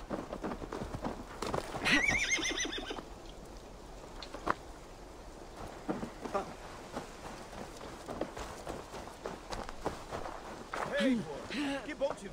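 A horse in the Assassin's Creed Valhalla video game neighs loudly and nickers near a doorway, with hoof clops and shuffling steps scattered through the clip and a second whinny toward the end.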